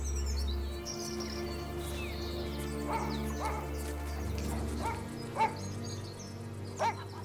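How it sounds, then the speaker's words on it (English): A dog on a countryside walk near a quiet French town gives a few short barks and yips spaced a second or so apart, fairly distant, over a low rumbling background with faint birdsong. "farmer Marcel Lant takes his dog for a walk."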